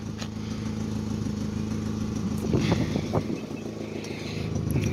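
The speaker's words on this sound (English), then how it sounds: "It's got one heck of an exhaust on it." A 1994 Ford Ranger XLT with a DC Sports exhaust idles nearby, a steady low rumble that rises briefly in the middle as the engine is revved.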